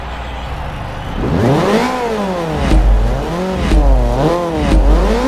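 A supercharged Lotus Exige S on the Silverstone circuit revs loudly and up close, its engine pitch sweeping up and down through several rising and falling pulls, with no voices over it.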